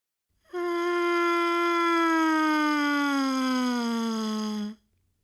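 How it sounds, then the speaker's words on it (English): A trumpet mouthpiece buzzed alone plays one sustained downward siren, a bright buzzy tone of about four seconds that slides gradually lower in pitch, loud and close, with no talking. "practice your downward mouthpiece sirens"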